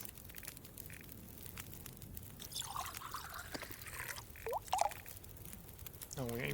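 Birch bark tea being brewed in The Long Dark survival game, with soft liquid trickling and pouring sounds and faint crackling in a quiet scene, plus a few brief clinks.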